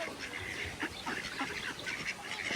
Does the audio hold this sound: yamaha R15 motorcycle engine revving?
no